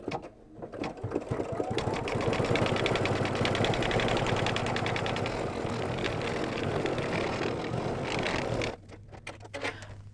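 An embroidery machine stitches lining fabric in the hoop for a wineglass coaster, with a close, steady rapid hum and needle chatter lasting about eight seconds before it stops, followed by a few faint clicks.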